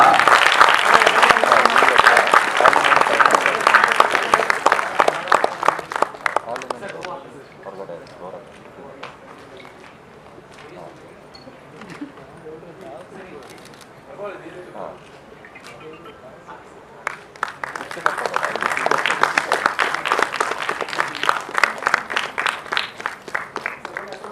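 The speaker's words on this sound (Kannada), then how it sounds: "ಪುಷ್ಪಾರ್ಚನೆ ಜೋರಾದ ಚಪ್ಪಾಳೆ ಮೂಲಕ" Loud applause from a crowd, fading to quieter murmuring in the middle, then swelling into strong clapping again toward the end.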